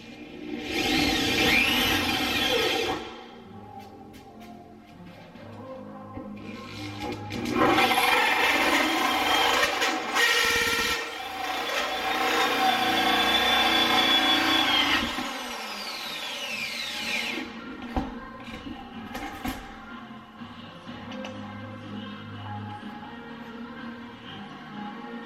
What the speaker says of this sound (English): I'm going to put this into my drill. And I'm going to put this right down on here. I'm going to cut a hole through.